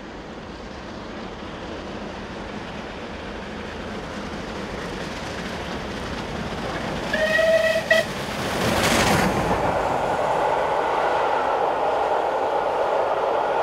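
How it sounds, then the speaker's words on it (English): Steam locomotive 35018 hauling the Dalesman Rail Tour from Chester to Carlisle passes by: rail noise builds from a distant rumble, a brief chime-like horn sounds, then a loud broadband rush of the train going past. "Heading north is 35018 on the Dalesman Rail Tour from Chester to Carlisle and back, where the steam came on"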